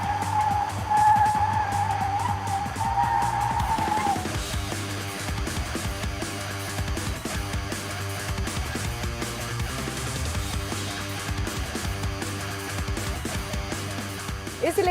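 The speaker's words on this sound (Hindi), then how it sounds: "तब ये एक ही स्पॉट पर 360 डिग्री स्पिन होती है" A Mercedes-Benz G580 EQ electric SUV spins on the spot in a 360-degree G-turn, its tyres squealing and skidding loudly and continuously throughout, with a sharp high screech early on before settling into a rough, sustained scrub.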